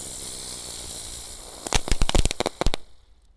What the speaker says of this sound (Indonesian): kita akan menyalakan mercon teratai guys sore ini